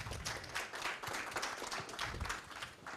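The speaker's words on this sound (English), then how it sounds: "Can we give a round of applause to the panel?" A conference audience applauds a panel at the close of a session, steady dense clapping that stays faint and distant for the full length, with no talk over it.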